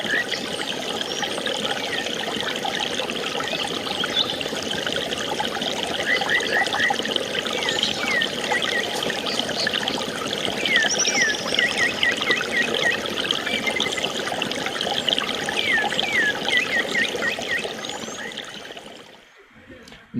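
The Arroyo Bruno stream in northern Colombia trickles and gurgles continuously in a 2016 field recording, a dense close bubbling flow with faint bird chirps above it, fading out at the end.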